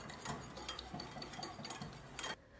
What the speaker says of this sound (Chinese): 往蛋黄的碗当中倒入50毫升的牛奶，再加30克的白糖，把牛奶和蛋黄搅拌混合为一体